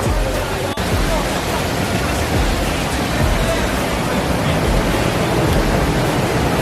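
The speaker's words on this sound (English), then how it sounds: "Maybe I can't hear him because of the rushing of the water." Rushing water roars outdoors as a loud, steady broadband wash that masks other sound, with one brief dropout near the start.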